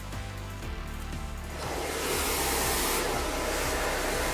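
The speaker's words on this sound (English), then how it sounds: "when you're blow drying hair, you'll get a different effect if you're going horizontal with your round brush like I am" Hair dryer blowing steadily while hair is styled with a round brush for a volume blowout, a continuous loud airflow roar that swells slightly partway through, with no talking.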